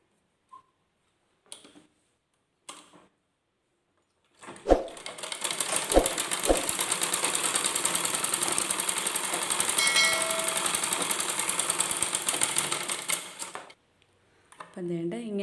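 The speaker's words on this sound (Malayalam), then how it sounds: "എന്നിട്ട് നമ്മൾ ഈ ലൈനിൽ കൂടി സ്റ്റിച്ച് ചെയ്ത് കൊടുക്കുക" A sewing machine stitches tucks into folded fabric, running in one loud, steady rattling burst of about nine seconds, with a few handling clicks before it and a brief restart at the end.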